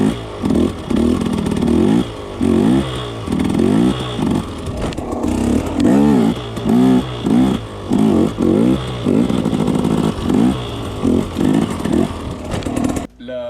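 A motorcycle engine surges in repeated rhythmic bursts of revving and easing off, loud and near, as the rider practises wheelies.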